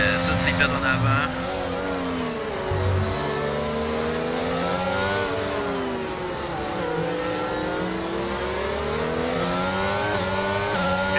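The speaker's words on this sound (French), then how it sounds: "Les 4 pilotes de tête là qui suivent. Max Beau, tour le plus rapide" Racing cars in a video game of a UK division race roar around the track, engines revving and shifting in rising and falling whines, loud and continuous, with a commentator talking over them.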